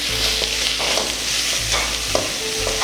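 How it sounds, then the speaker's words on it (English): Thyme and grated garlic sizzle in a pot for curried coconut rice, with a steady bright hiss and intermittent scraping from stirring close by. "I'm going to stir now."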